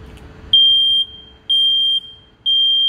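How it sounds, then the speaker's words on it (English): A smoke alarm emits three loud, piercing high-pitched beeps, each about half a second long, evenly spaced with brief gaps between them. "Smoke alarms give us early detection of smoke when there's a fire in your house."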